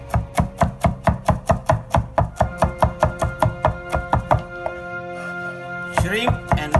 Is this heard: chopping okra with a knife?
yes